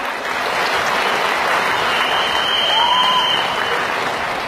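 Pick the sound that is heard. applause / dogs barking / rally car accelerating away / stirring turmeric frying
applause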